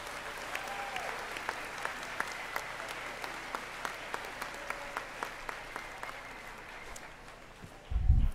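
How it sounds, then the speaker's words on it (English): An audience at a middle school moving-up day ceremony gives the students a round of applause, steady crowd clapping with a few sharp nearby claps standing out, ending with a brief bump of handling noise. "So can we give all of our students and their accomplishments another round of applause?"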